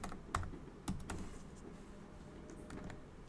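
A few scattered computer keyboard keystrokes sound in a quiet room while a layer name is typed in Illustrator, with short taps spread across the moment and no talking.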